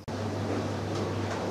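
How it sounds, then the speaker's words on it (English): Steady low mechanical hum with a constant tonal drone from a dishwasher running in the background, continuous and moderately quiet throughout. "Sorry about the dishwasher noise."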